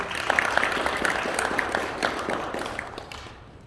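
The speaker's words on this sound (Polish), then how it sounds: "I duże brawa dla Emci" At a school pledge ceremony, a crowd applauds a new first-grade pupil with steady, moderately loud clapping whose individual claps are distinct. The sound thins out and fades toward the end.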